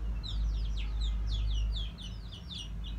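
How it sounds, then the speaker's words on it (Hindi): An aseel rooster gives a run of short, repeated high calls over a steady low hum, sounding close and fairly clear, with no talking. "ये देखिए मुर्गा रोगनी भी कर रहा है माशाल्लाह"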